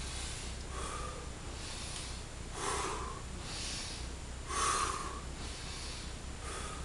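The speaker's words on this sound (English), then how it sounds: "Exhaling through the mouth." Breath pushed out through the mouth during Tummo breathing, a run of soft, airy exhalations. Two of them, near the middle and toward the end, come out stronger and slightly snorting, all close and quiet with no talking.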